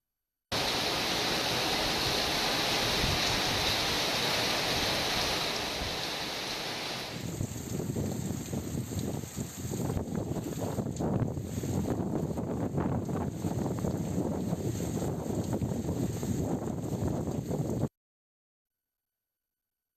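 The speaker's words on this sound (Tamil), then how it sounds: "பலத்த காற்று மற்றும் இடியுடன் கூடிய கனமழை பெய்ததால்" Heavy rain driven by strong wind during a thunderstorm around Poompuhar and Kollidam, Tamil Nadu: a dense, continuous roaring wash that stays loud for the whole stretch, then cuts off abruptly, with no voices.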